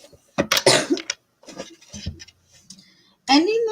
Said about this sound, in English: I think I got to sneeze again